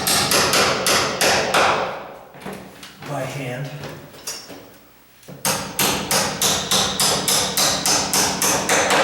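A wooden hammer knocks a hinge pin out of a door, giving a steady run of sharp, evenly spaced strikes at the start and a fast, regular series at the end, with someone talking in the pause between them.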